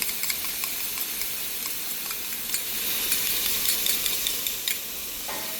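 Tom yum chili paste sizzles and fries steadily in coconut oil in a pan over low heat, with stirring scrapes, loud and close throughout.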